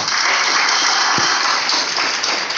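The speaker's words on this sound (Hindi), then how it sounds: "उनके सम्मान में एक जोरदार ताली हो जाए।" A large audience at a business success event gives loud, sustained applause, a dense wash of clapping at constant strength with one soft low thump partway through.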